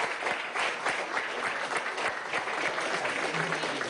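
An audience claps steadily through the whole stretch at a children's cantata performance in a palace hall, a dense, even applause with no clear breaks.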